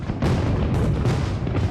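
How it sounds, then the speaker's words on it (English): Distant artillery fire rolls in as a low, rumbling boom, followed by a few more muffled thuds that blend into a continuous heavy roar. "when the sound of the artillery reached Fort George"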